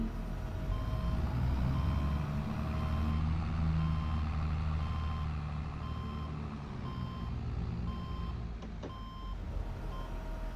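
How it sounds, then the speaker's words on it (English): Heavy machinery engine rumbling steadily in the video game Farming Simulator 22 as a loader scoops gravel, with a repeating reversing beep sounding throughout, fairly loud and continuous with no talk. "Trying to get a big scoop of gravel here."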